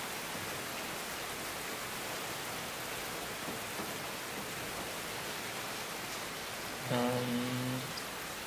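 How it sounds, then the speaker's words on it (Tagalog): Steady rain falls in a continuous, even hiss, close and moderately loud. A brief tonal hum rises over the downpour near the end. "Di tumitigil yung ulan"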